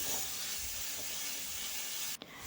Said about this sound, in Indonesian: Lalu tumis bumbu yang sudah diulek tadi.